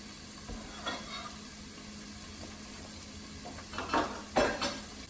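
Onions cook in oil in a pan with a low, steady sizzle under the clink and scrape of a utensil mixing them, with louder knocks of stirring near the end and no talking.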